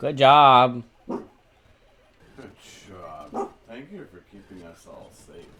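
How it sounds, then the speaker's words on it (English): A dog lets out one loud, close bark at the start, then a person speaks calmly while faint yips and whimpers continue quietly underneath. "I apologize for the barking."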